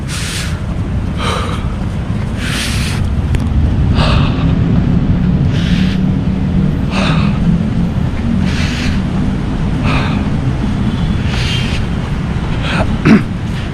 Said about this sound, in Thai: ใส่มาร์ก ต้องหายใจแบบนี้